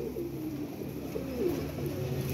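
A flock of 28 flying pigeons keeps up a low, steady cooing nearby, the soft throaty calls overlapping without pause and with no voices in between.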